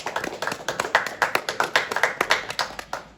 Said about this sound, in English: Can we clap for Ayman, please?